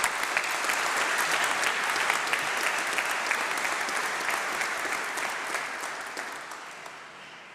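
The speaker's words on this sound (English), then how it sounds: "a round of applause from our graduates for all the families and friends at the front" Graduates applaud at a university summer congregation ceremony, a large hall of steady, dense clapping that holds strong and then slowly fades near the end.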